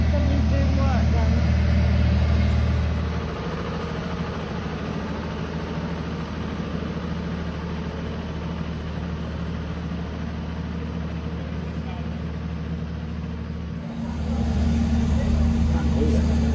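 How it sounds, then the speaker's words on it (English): A generator runs nearby in the Tuscan hills, its low steady drone loud at first, then easing off before rising again near the end, with people talking over it. "Oh, got terrible noise, it's a generator there."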